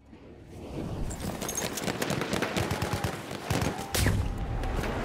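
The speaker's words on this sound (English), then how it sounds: "Machine gun, over there!" Machine gun and rifle fire in a war video game rattles in rapid, dense bursts throughout, loud and close, with overlapping shots layered into one continuous barrage.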